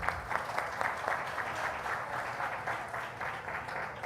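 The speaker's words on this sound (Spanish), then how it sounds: "Un fuerte aplauso para ella" Audience applause at a judicial process forum session, a steady, fairly faint wash of clapping from a seated crowd in a hall, with no speech over it.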